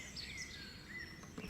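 Birds sing in a cartoon woodland setting, a few thin, high chirps and short warbled phrases drifting over a soft, steady background hum, fairly faint and with no talking.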